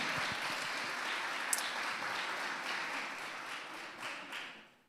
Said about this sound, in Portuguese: Eu queria que vocês aplaudissem bem forte aí o nome de Luan